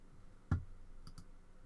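A few mouse clicks on a web form, one sharper click followed by two lighter ones close together, alone in a quiet room.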